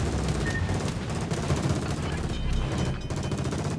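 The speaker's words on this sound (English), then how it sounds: "One good shot, and then Matsuki's probably going to be dead." Warship guns booming continuously in a naval video game, a thick dense rumble of gunfire and explosions with steady loud intensity and a voice talking over it.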